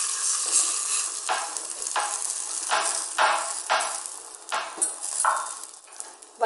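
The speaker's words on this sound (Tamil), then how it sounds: "எடுத்து வச்சிருக்க புளிக்கரைசல ஊற்றிக்கலாம்" Tamarind extract goes into a pan of mashed yam, with bubbling sizzle and a series of rhythmic stirring strokes scraping the pan, close and moderately loud with no voices.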